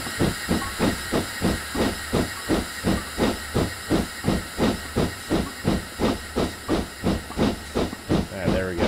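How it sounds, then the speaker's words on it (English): In the Train Sim 2020 video game, a steam locomotive sends steam to its cylinders in a rhythmic series of sharp hissing chuffs, about two per second, loud and regular throughout with a faint voice at the end. "release steam power to the cylinders"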